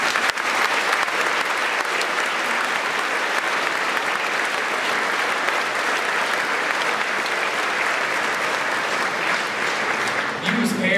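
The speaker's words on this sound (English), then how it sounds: "And I think a round of applause for our students." Audience at a 2022 graduation ceremony for Gorey students, applauding with dense, sustained clapping that stays loud and even for about eleven seconds.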